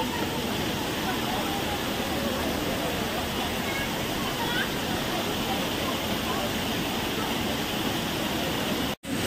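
Steady roaring rush of the crowded Waghoba waterfall, a dense continuous wash of falling water filling the whole clip, with a brief dropout near the end.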